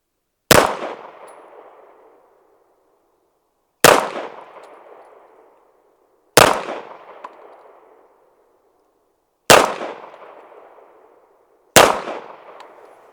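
Pistol firing CCI Blazer 115 grain ammunition: five single shots, each a sharp loud crack with a fading echo, spaced two to three seconds apart, close by, with no talking.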